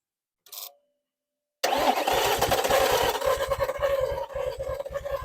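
A short faint click, then a Volvo XC60 engine cranking on a boost pack, loud and close, with the starter's fast rhythmic chugging running steadily for several seconds without catching.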